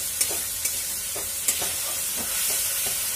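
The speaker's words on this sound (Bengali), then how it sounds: "মশলাটাকে ভালোভাবে নাড়াচাড়া করে নিতে হবে।" Spice paste for chana dal stirred and frying in a pan with a little water, a constant hissing sizzle overlaid by a few light spatula taps and scrapes, close by.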